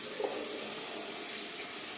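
Tap water runs steadily into a sink to wet the face before a wet shave, a close, even hiss of flowing water with faint splashes and no talking.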